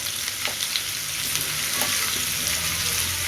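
Ginger garlic paste and carrot sauté in hot oil for a lentil dish, a loud continuous sizzle with light stirring scrapes and taps, close and without talk.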